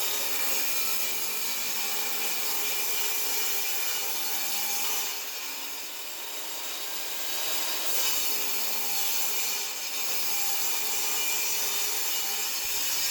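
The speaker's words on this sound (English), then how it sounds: "raise the table saw blade up to the top of the wood and run it through again" A table saw cuts through a board in one steady, continuous pass, a close, even whirring rasp with slight swells in loudness and no talking.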